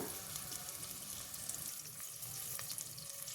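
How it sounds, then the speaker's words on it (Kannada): Sliced onions frying with rice in a pan, a faint, steady sizzle and crackle running throughout with no talk. "ಸ್ವಲ್ಪ ಈರುಳ್ಳಿದ ಹಸಿ ವಾಸನೆ ಹೋಗಬೇಕಾಗುತ್ತೆ ಅಲ್ಲಿ ತನಕ ಫ್ರೈ ಮಾಡ್ಕೊಳ್ಳೋಣ"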